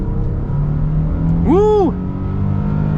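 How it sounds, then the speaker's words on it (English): A 2023 Nissan Frontier pickup truck accelerating, a steady engine drone with a brief rising whine in the middle, heard from inside the cabin with no talking. "We're gonna get our acceleration here at the Frontier now."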